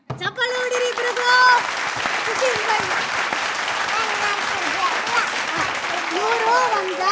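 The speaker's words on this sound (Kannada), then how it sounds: "ಚಪ್ಪಾಳೆ ಹೊಡಿರಿ ಇಬ್ರಿಗೂ" Sustained applause from an audience, loud and steady throughout, with voices and cheers scattered through the clapping.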